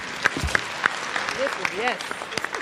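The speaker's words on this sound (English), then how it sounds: "please clap it for him" Scattered applause from an eighth-grade graduation audience in a school hall, sparse claps heard over crowd chatter and a few voices nearby.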